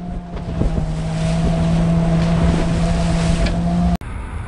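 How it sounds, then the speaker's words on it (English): A boat's engine drones steadily on the water with a constant low hum and wind buffeting the microphone, ending in a short cut. "Boat."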